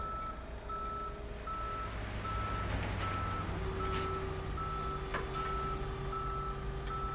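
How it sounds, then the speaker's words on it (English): A tow truck in Police Simulator backs up with steady, evenly spaced reversing beeps over a constant engine drone, a second tone joining partway through, with a brief hiss of air brakes. "Oh, I just want to watch them tow this truck."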